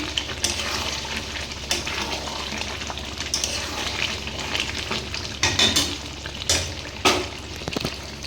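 Chicken kosha is turned and stirred in a pan, giving wet sizzling and sloshing with irregular scrapes and knocks of the spatula, close and moderately loud, with no voices.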